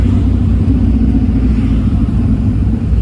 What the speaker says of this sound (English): All right, we're gonna turn the muffler up.